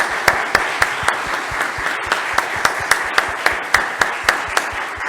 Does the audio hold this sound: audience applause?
yes